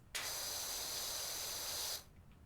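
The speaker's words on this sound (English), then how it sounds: "They needed a bit of a spraying from up here." Pressure washer in the video game Power Washer Simulator lets out one steady, hissing spray burst of about two seconds that starts abruptly and cuts off cleanly, fairly faint against near silence.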